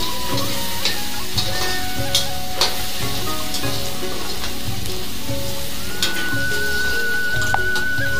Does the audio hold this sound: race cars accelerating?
no